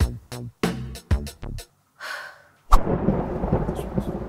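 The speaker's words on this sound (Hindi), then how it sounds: "बाहर बारिश हो रहा है यार" Thunder rumbles after a stretch of short clipped sounds, followed by steady rain noise outside that continues loud and dense to the end.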